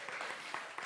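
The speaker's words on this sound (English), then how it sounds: "You need to applaud for that." Audience applause in a church service, a short burst of dense, steady clapping at moderate distance.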